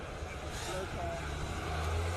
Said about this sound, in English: the glorious sound of an RS3 all-wheel drive. Such an iconic 5-cylinder sound